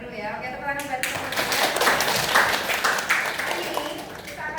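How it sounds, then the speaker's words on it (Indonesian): Classroom of students applauding together, a dense burst of clapping that starts abruptly and rolls on steadily, fairly close, with a voice speaking briefly before it begins. "Oke, tepuk tangan buat teman-teman."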